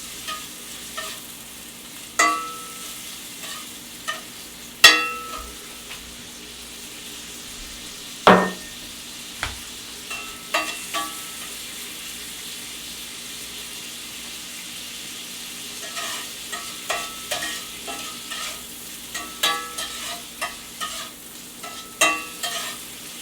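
Shrimp for scampi sautéing in a pan, a quiet background sizzle broken by scattered clinks and scrapes of a utensil against the pan, sparse at first and busier toward the end.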